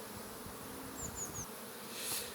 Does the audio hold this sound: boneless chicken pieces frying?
no